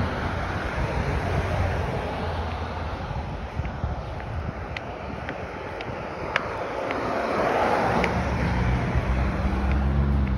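Steady street traffic on Washington Street in Las Vegas on a rainy morning, a broad continuous roar of passing cars with wind noise, a few faint clicks, and a slight swell as a vehicle passes near the end.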